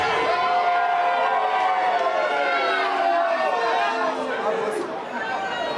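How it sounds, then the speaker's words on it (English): A packed stadium crowd at a Minnesota Vikings home game against the Packers: a dense, continuous roar of chatter and cheering, loud and sustained, dipping slightly near the end. "The crowd was insane."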